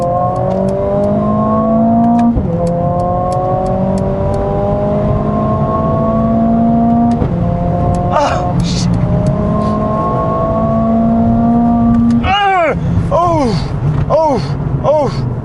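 The Mercedes-AMG CLA 45 S engine revs hard toward 7200 rpm with rising pitch sweeps, repeated gear-change drops and crackling pops on lift-off, loud and close, with talk mixed in.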